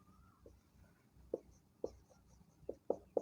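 Handwriting of a maths equation, likely with a pen or marker, a handful of faint, close scratchy taps and strokes in an otherwise quiet room.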